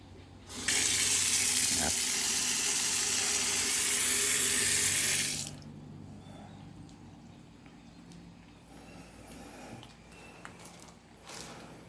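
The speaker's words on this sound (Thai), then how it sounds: "น้ำที่นี่ไหลแรงเลยนะครับ" A tap at a campsite washbasin gushes strongly, a loud steady rush of water for several seconds before it is shut off, leaving faint drips and small handling noises.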